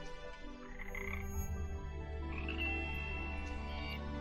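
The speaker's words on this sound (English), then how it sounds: "Froggies." Frogs croak steadily for several seconds, a dense chorus of rough calls under a few higher chirps, loud and close with no talk.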